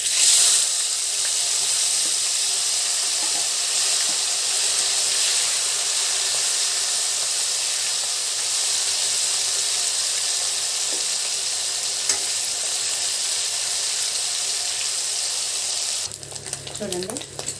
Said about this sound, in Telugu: రొయ్యలు ముందు వేయించుకోవాలి